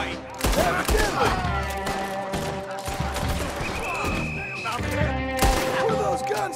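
Gunfire from a Red Dead Redemption 2 shootout, with repeated loud shots and bursts sounding through busy game music and effects, while a voice speaks briefly over the fighting.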